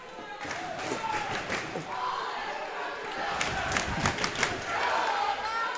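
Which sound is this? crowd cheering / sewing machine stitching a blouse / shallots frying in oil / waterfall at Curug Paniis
crowd cheering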